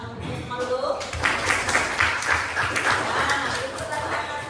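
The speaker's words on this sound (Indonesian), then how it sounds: "Kita kasih tepuk tangan untuk semua dulu." A grade-six classroom bursts into applause during a lesson: after a brief spoken moment, many small hands clap in a busy, fairly loud patter that continues to the end, with voices mixed underneath.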